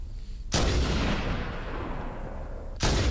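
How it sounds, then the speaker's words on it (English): Sniper rifle fire in the video game Halo: Combat Evolved: two heavy, loud shots about two seconds apart, each with a long rumbling decay, over constant low battle noise. "There are these sniper guys shooting them."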